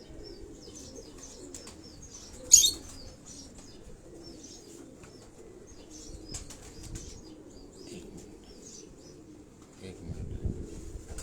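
A pigeon on a rooftop gives a sharp, brief flutter of wings, then faint soft coos and rustles over a low murmur of distant voices and ambient noise.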